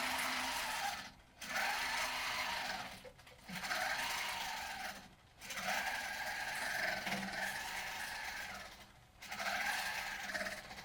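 A longarm quilting machine running in cruise mode, the needle cycling in a steady fast whir that pauses briefly several times before resuming, close and continuous with no talk.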